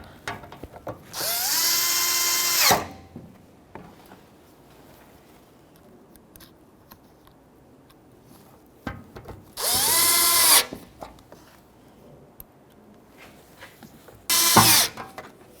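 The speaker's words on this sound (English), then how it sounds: "you have to attach that lower bumper to the shield. And that is 4 little Phillips screws" A power driver drives small Phillips screws fixing a lower bumper to the shield on a Nissan Frontier, in three separate close whirring bursts with quiet pauses between them.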